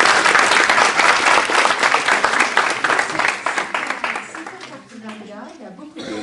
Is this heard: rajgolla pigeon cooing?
no